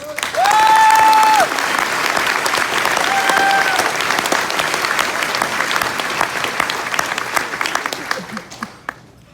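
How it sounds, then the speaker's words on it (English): A crowd at a Marine Corps ball breaks into loud, sustained applause that gradually thins out, with a brief tonal whistle-like sound near the start. "Give them a round of applause."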